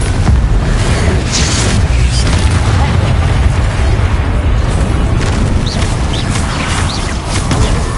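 Confringo fire spell explosions in the Hogwarts Legacy video game roar continuously, with loud, dense, overlapping booms and crackling bursts holding at a steady, heavy level throughout.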